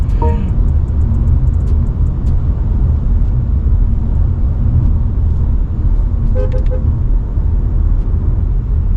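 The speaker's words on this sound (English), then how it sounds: "So it holds on to the second gear up to 115-120 kilometers, which is insane." A 2024 BMW 5 Series accelerates while holding second gear, a loud, steady low cabin roar of engine and road noise heard from inside, with faint clicks and brief tones over it.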